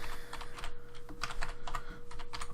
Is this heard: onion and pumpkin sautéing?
no